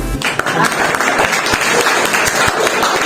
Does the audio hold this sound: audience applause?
yes